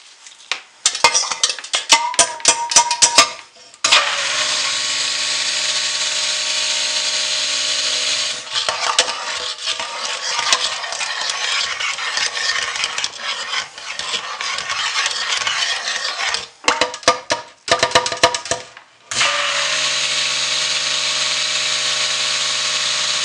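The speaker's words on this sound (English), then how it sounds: "Make a little bit of noise with a stick blender." A stick blender whirs steadily through soap batter in a hot and cold process soap batch, long continuous motor runs broken by brief pauses and short bursts, close and loud with no talking.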